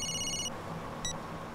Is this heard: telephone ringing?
yes